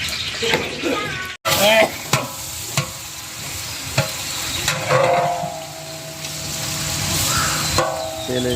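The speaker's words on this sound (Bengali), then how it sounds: "তেলের সাথে পেঁয়াজ কুচি, দারুচিনি, তেজপাতা দিয়ে দেওয়া হয়েছে।" Chopped onions, cinnamon and bay leaf fry in oil in a pot on a stove for khichuri, giving a loud, steady sizzle broken by stirring scrapes and a brief dropout early on.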